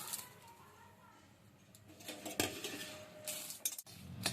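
Metal utensil scraping and clinking against a dry wok as dry chillies are stirred over low heat, irregular taps and scrapes, fairly quiet and close.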